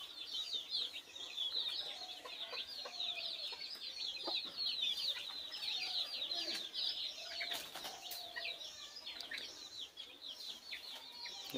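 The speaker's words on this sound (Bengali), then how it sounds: "আজকে নতুন একটা মুরগি ডিম পাড়ছে।" A young hen laying for the first time keeps up a continuous run of rapid clucking after producing her egg, moderately close and quite soft, with other birds stirring faintly around her and no talking.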